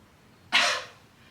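A single short, breathy cough, close and fairly soft, standing alone against quiet room tone during core-strengthening breathing exercises.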